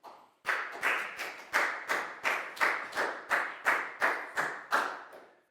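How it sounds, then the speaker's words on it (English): A group claps together in unison, about a dozen even claps at a steady beat, with no talking. "a big round of applause for Prel,"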